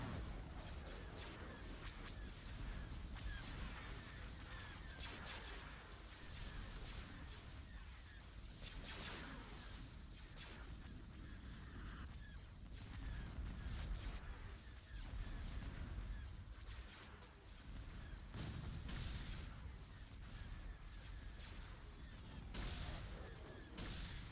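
Battle sounds from the Empire at War video game with an ion cannon firing: dense, continuous rumbling explosions and booming blasts crowd together, with repeated louder bursts punching through a constant roar of combat.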